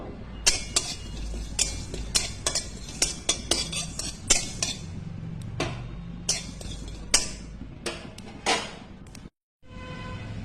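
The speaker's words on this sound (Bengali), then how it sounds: "সবার প্রথমেই আমি কড়াইতে মৌরিগুলো একটু শুকনা করে ভেজে নেব।" Fennel seeds dry roasting in a wok for a mango chutney, heard as a steady run of metal spatula scrapes and clinks against the pan, fairly close and loud, with a brief gap near the end.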